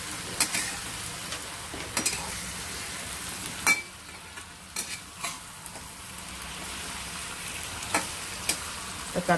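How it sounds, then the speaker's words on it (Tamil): Home-grown eggplant sautéing in oil in a pan for sambar, a continuous close sizzle broken by repeated scraping stirs and occasional utensil taps. "அதுக்காக தான் இந்த கத்திரிக்காய் எண்ணெயில் வதக்குறோம்"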